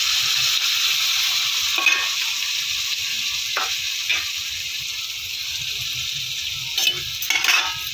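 Potatoes fry and are stirred in hot oil with soaked ground spices for a Bengali rohu fish and potato curry, giving a steady loud sizzle with a few scraping stir strokes, no talking.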